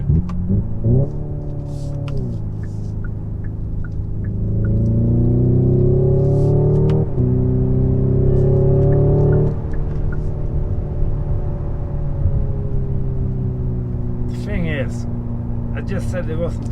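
A Hyundai IONIQ 5N accelerates hard to overtake, its synthetic engine note climbing through rising, stepped gear-change sweeps before easing off, with road rumble beneath and brief talk inside the cabin.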